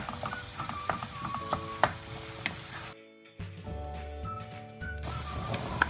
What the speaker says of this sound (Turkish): 250 gram kadar kıymayı da ekledim ve devamlı karıştırarak kavuruyorum.